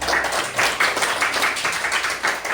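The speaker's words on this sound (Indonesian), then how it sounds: "Tepuk tangan untuk kelompok yang terakhir." Students clap steadily in a classroom for a couple of seconds, a dense patter of hands with no voices.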